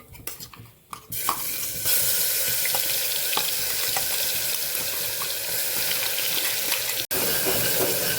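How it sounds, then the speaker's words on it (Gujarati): Onions sautéing in hot oil with asafoetida, a loud steady sizzle and crackle that starts after a brief quieter moment, with scattered stirring clicks and a momentary dropout near the end. "ડુંગળીને આપણે સરસ સાતળી લેવાની છે, બ્રાઉન કલરની થાય ત્યાં સુધી આપણે ડુંગળીને સાતળશું"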